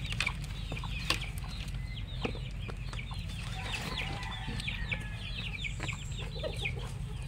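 Chickens cluck and squawk in a breeding pen, a steady scatter of calls near and far over a constant low hum, with no talking.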